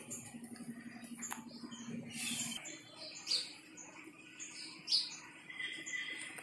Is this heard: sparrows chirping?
yes